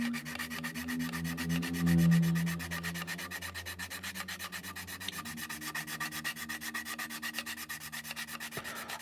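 Steady back-and-forth rubbing of a flexi file sanding an Airfix Concorde model kit, a continuous close scratchy hiss with even rhythmic strokes throughout.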